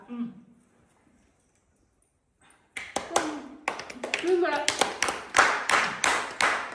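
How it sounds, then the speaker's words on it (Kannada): Near silence with faint voices gives way to a run of sharp hand claps, some single and some in quick clusters, mixed with talking and a voice. "ಸಾವಿರ ಸಾವಿರ ಚಪ್ಪಾಳೆ ಚಪ್ಪಾಳೆ ಚಪ್ಪಾಳೆ"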